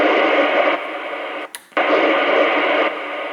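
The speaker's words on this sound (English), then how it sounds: "when you change the channel you'll notice the noise level goes up" Loud, steady hiss comes from a radio tuned between stations. Partway through, the noise drops out briefly during a channel change, then returns at full strength, with a slight shift in level later on.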